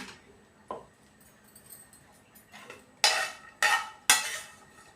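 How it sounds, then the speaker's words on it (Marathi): Roasted spice mix is spooned from a pan into a mixer jar, giving a soft clink followed by three loud, close scraping clatters of metal on metal near the end. "मिक्सरच्या भांड्यामध्ये मी मसाला काढून घेतला"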